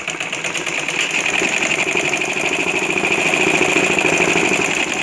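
A sewing machine runs a continuous stitch down the middle of a kameez, a loud, steady rapid chatter of the needle mechanism with an engine-like hum throughout.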